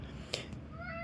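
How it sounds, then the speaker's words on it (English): A domestic cat gives a short, faint meow with a rising tonal contour, near the end of a quiet second, over low background hum and no talk. "sorry, my cat, he's very needy"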